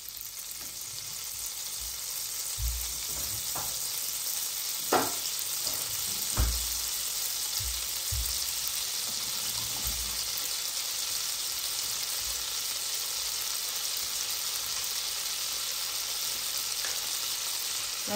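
Oil and butter heating in a pan for palak paneer, giving an even, steady sizzle that fills the whole stretch, with a few soft bumps and clinks early on.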